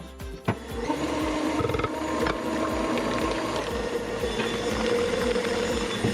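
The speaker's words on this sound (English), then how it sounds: "Now I'm going to mix this to a consistency of liquidy goodness." Sour cream coffee cake batter is mixed with a steady, rhythmic mechanical whirring and chugging that runs loud and unbroken throughout, with a sharp knock near the start.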